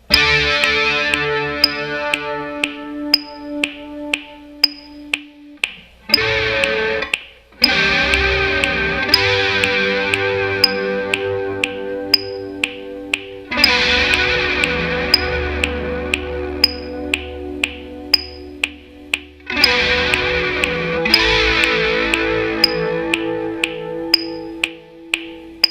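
An electric guitar plays a rhythm part, a steady shimmering stream of delayed, effected notes in groups of three, loud and continuous, with chord changes marked by brief dropouts and fresh swells.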